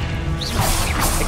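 A short crashing blast from the Confringo fire spell in the video game Hogwarts Legacy, a whooshing burst that swells and lingers with debris-like crackle, loud and close.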